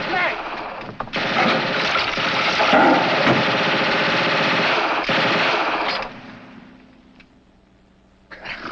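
A machine gun fires in a 1950 comedy film set in the Foreign Legion, a loud continuous rattling burst lasting several seconds that then fades into quieter sound, with voices briefly present.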